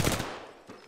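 Gunshots striking a player in a video game: a sharp, fairly quiet burst of impact at the start, then two smaller hits close together near the end of one second.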